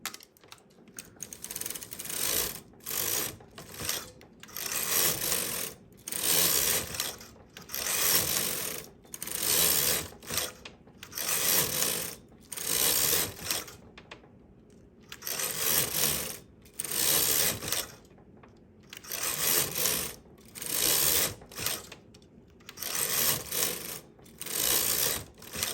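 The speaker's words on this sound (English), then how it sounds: "I knitted 1, pushed 4 needles out, and now I need another 17 rows." A knitting machine carriage swept back and forth knitting rows for fingerless mittens, a loud rhythmic whirring and clattering that repeats in regular passes of about a second, separated by brief pauses, with no speech.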